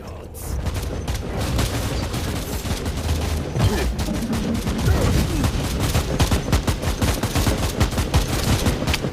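Gunfire in the video game Warhammer 40k Inquisitor Martyr roars in dense, continuous volleys of rapid shots and booms, loud and unbroken throughout.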